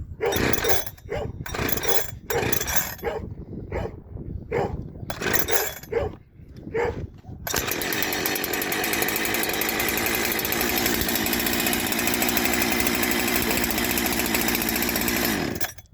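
A Husky 372xp clone chainsaw being started, with repeated choppy bursts of the engine catching and dying, then a loud, steady, close roar as it runs continuously.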